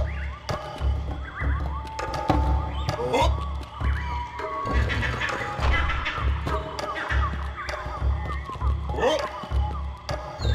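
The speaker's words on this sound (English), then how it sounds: "Come here, horsey." A horse in Serious Sam 2 neighs and whinnies repeatedly over hoof thuds and game effects, with the whinnies rising clearly above a busy, continuous background.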